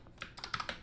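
Rapid keystrokes typing a line of code on a computer keyboard to start the ADC on an Electrosmith Daisy Seed board, several close clicks in a quick uneven burst.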